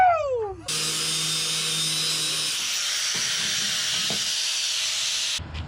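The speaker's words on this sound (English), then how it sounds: "now I'm just going to cut this in half with my grinder" Angle grinder cutting a custom steel exhaust part in half for an LS-swapped square-body truck, a loud sustained hissing whine that runs steadily for about five seconds before cutting off.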